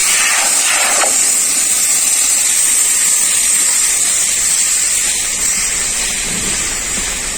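A loud, steady hiss of steam and bubbling fills the whole stretch, like a pot of soaked lentils boiling hard close by, with no voices.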